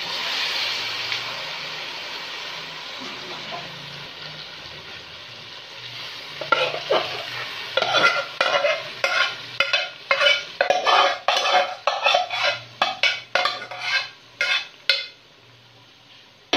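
Half-boiled lentils are stirred into meat cooking in a pot for a daal gosht dish, a frying hiss first, then a run of loud rhythmic spoon scrapes and clacks against the pot; no talking.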